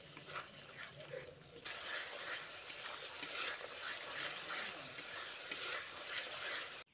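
A spoon stirs whisked sour yogurt into chicken in a hot pan, giving a steady wet scraping and gentle sizzle that grows fuller partway through and continues without talk.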